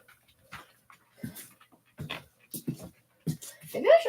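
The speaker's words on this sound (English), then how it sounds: "Oh, it's the dog." A dog pants in short bursts and lets out rising whimpers toward the end, close and intermittent with quiet gaps between.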